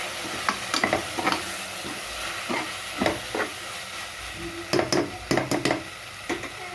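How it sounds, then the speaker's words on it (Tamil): Biryani masala being sautéed and stirred in a pan, four spoonfuls of spice frying for chicken biryani, with a soft steady sizzle and scattered sharp scrapes and clinks of a spoon against the pan. "பிரியாணி மசாலா வந்து நான் நாலு கரண்டி போட்டிருக்கேன் நல்லா வதக்கி வச்சுக்கோங்க"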